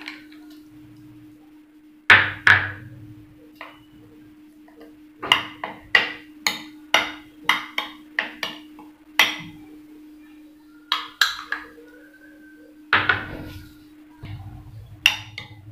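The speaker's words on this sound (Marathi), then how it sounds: "आता ह्यामध्ये आपण गाजराची जी पेस्ट आहे ती मिक्स करून घेऊ." A spoon mixes carrot paste into rawa dhokla batter in a bowl, giving a series of sharp, close clinks and taps against the bowl in irregular bursts over a faint steady hum.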